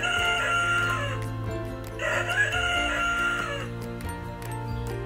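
A recorded rooster crows twice, long drawn-out calls with a short gap between, clear and close over a soft background tone.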